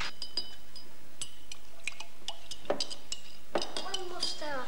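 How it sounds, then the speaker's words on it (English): A spoon stirring instant coffee in a glass, giving a series of sharp ringing clinks at an uneven rhythm, close and fairly clear, with soft liquid sloshing underneath. "One more stir, I think, would do it."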